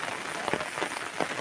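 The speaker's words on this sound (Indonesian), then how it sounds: "Seperti sahabat saksikan ini hujan turun lagi setelah tadi reda." Rain falls again after a pause, a steady close hiss of drops on surfaces with a few louder patters.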